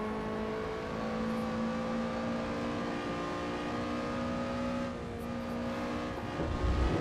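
A race car in Assetto Corsa, played in VR, holds a steady high engine drone with a sustained rev, straining as if it needs a higher gear, with no talk over it.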